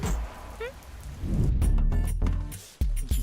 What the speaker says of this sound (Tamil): ஐயோ, மழை வர ஹெவியா வருதே.